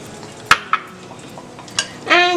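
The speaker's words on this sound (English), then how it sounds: "The powdered sugar needs to melt a bit, so let's keep stirring till then." A spoon stirs a powdered sugar mixture in a pan for homemade chocolate, giving a few sharp metallic scrapes and clinks against the pan over quiet sizzling.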